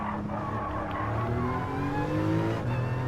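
Porsche 911 Type 993 Carrera RS Club Sport race car in Gran Turismo Sport, its engine droning and shifting pitch under load while tires squeal through a corner, loud and steady, with no talk.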